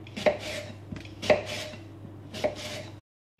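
Three sharp knife cuts slice apples into thin slices on a board, evenly spaced about a second apart, close and clear, then the sound stops.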